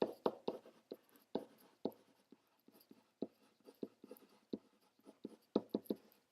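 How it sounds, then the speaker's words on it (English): Pen or marker writing a sentence during a math lesson on sphere volume, a series of soft scratchy strokes and taps with short pauses, close and fairly quiet. "I'm going to write a sentence to finish it off."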